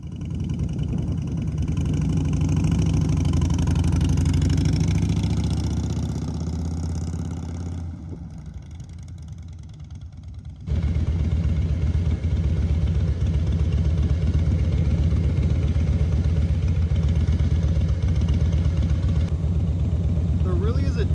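A Harley motorcycle's heavy engine rumbles steadily while riding, with a brief quieter stretch where the throttle eases off before the loud, close drone returns and carries on, with a voice talking over part of it.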